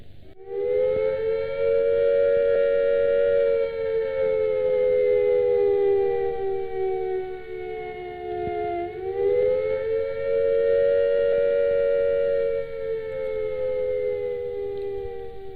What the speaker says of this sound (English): The sirens will sound a rising and falling note like this.